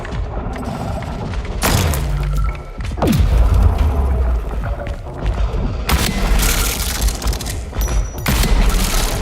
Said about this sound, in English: that pipe bomb did no damage